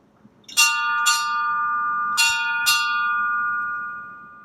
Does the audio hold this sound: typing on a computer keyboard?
no